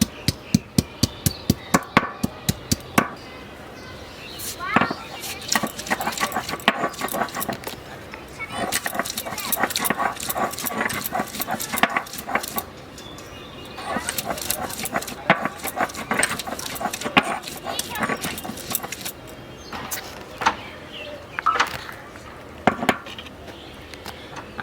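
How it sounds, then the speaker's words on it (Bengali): Raw potatoes ground into a paste by hand: a run of sharp, evenly spaced knocks gives way to steady rhythmic scraping and grinding strokes up close, with a voice speaking at times. "আলুগুলো আমার বাটা হয়ে গেছে, দেখো কি সুন্দর করে আমি বেটে নিয়েছি।"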